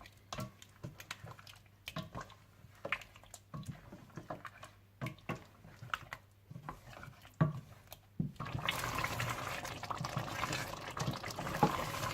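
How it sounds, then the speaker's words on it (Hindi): Water is poured into a pot of fried mutton for korma, first a series of sparse clicks and drips, then a steady louder pour and sizzle filling the last few seconds. "मटन को अच्छी तरह भूनने के बाद अब आप इसमें इतना पानी डाल लीजिए कि जिसमें गोश्त अच्छा सा गल जाए।"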